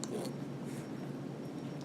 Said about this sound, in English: And I'm going to file it just a little bit.